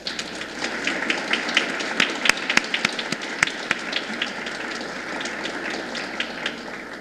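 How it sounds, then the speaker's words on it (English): A small audience at a library author event claps in scattered, uneven applause, the individual claps sparse and distinct over steady room noise. "please join me now in a round of applause for Jan Kaiser"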